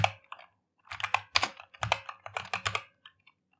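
Close keystrokes on a computer keyboard in quick irregular bursts, each key tap crisp and distinct, with a brief pause partway through and no speech.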